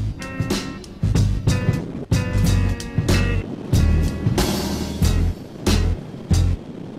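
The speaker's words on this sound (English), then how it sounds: "When you open up this this engine, you really have a great sound." Hammarhead Jack Pine motorcycle on a test ride, its engine revving in repeated loud bursts between shifts, with choppy wind buffeting and sharp breaks in the roar.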